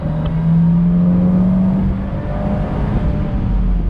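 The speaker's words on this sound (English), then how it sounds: "This does have a good sound though coming out of the exhaust." A 2019 Fiat 124 Spider Abarth's exhaust drones steadily as the car accelerates on throttle, a loud, close engine tone holding a rising pitch with a low rumble underneath.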